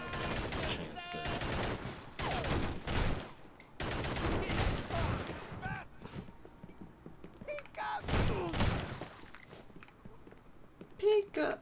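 Gunfire in the video game Urban Chaos: Riot Response, with bursts of loud, close shots in clusters separated by short pauses and a player talking over the action.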